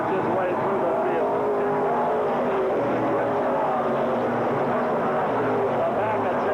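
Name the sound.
WISSOTA race cars racing at North Central Speedway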